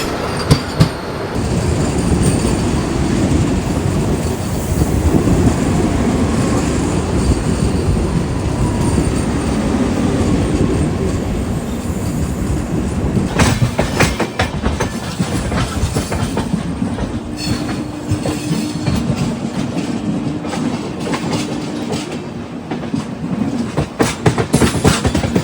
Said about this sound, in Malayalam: ഇതാണ് നമ്മൾ നേരത്തെ ഓവർടേക്ക് അടിച്ച വന്ദേ ഭാരത്, വിശാഖപട്ടണം സെക്കന്ദരാബാദ്.